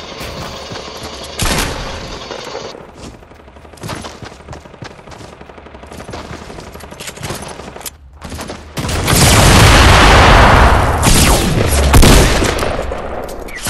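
Machine gun fire in a Fortnite battle royale match, sporadic shots early on building into a loud, sustained burst of rapid automatic fire with booming impacts near the end.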